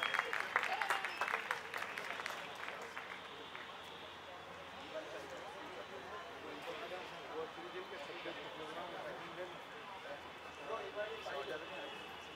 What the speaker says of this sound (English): A big, big round of applause, please.